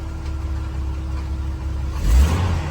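Jeep Wrangler YJ engine running just after a total cold start, a steady close idle drone that swells briefly into a short rev near the end, with no talking over it.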